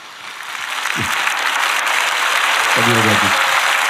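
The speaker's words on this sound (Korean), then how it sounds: "우리 격려의 박수 한번 잠깐 일어나시면" Church congregation applauding during a sermon, a steady dense wash of clapping that builds and holds for the whole stretch, with a voice briefly speaking over it.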